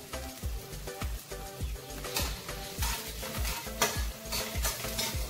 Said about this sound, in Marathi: या पद्धतीने आपण छान हे भाजून घेऊया.